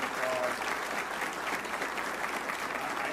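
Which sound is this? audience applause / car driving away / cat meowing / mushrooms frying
audience applause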